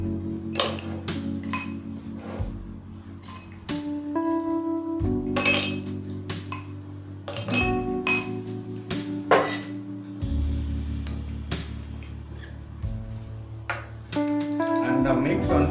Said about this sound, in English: Now again I'll put some ice in the glass.